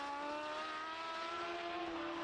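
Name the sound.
sidecar racing engine shifting gears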